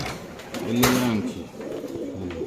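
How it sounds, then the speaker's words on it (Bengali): A racer pigeon of an uncommon colour gives a single rolling coo at a Bangladeshi pigeon farm, with a faint second call after and low ambient noise. "এগুলো রেসার কবুতর খুব আনকমন কালার"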